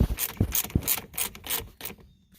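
A ratchet wrench loosens the negative terminal nut on a golf cart battery, giving a close run of quick clicking ratchet strokes in short bursts that fade out at the end.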